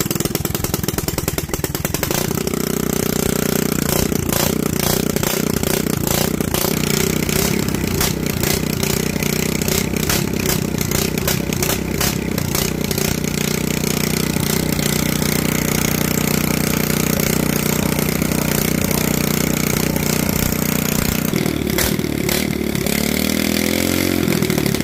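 A Predator generator engine fitted to a go-kart starts up and then runs loud and steady, a harsh close engine drone that continues without a break and changes pitch near the end.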